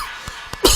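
A man coughs a couple of short, dry times close by, followed by a louder, harsher burst at the end; no talking.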